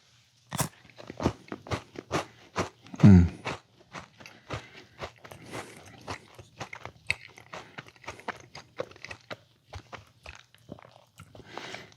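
Crunchy chocolate-covered Halloween candy being bitten and chewed up close, with a loud first crunch followed by a long run of sharp, irregular chewing crackles and no talking.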